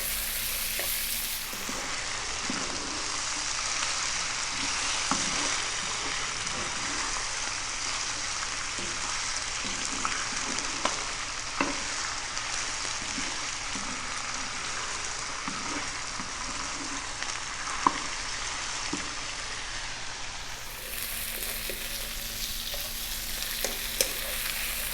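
Chicken stir-fries over high heat in a pan with soy and oyster sauce and black pepper, a steady loud sizzle running without a break, with small clinks and stirring scrapes scattered through it.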